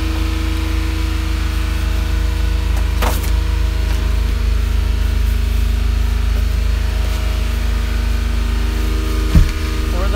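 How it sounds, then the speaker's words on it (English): A small three-cylinder engine idles close by with a steady low drone, alone and without talk, broken by a brief rattle near the end. "Little radiator, 3-cylinder engine."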